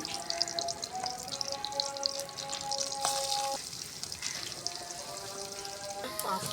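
Chopped garlic frying in oil in a wok makes a soft, continuous crackling sizzle, with faint tonal hums and clinks layered over it.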